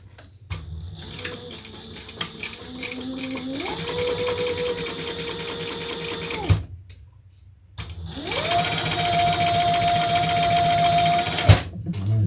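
A sewing machine top stitches across a bag edge, its motor whirring up in two sustained runs with a rising hum and rapid needle clatter, close by, separated by a short pause.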